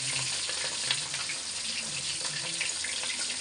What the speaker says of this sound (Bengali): এই দেখো তেল গরম হয়ে গেছে আমি লেঞ্জা মনে করে আগে ভালো করে একটু ভাইজে নিচ্ছি